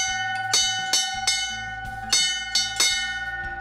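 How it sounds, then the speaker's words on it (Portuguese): Old fire engine warning bell struck by hand, a bright metallic ring hit about seven times in an uneven rhythm, each strike ringing on, close and loud with no talk. "tinha esse sino aqui, olha aí. E um bombeiro batendo isso aqui, ó."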